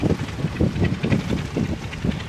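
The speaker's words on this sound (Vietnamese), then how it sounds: "Gió lên luôn rồi." Strong storm wind at sea batters a fishing trawler during a squall: a steady, roaring wind noise with rhythmic low gusting pulses, close and continuous, with no talking.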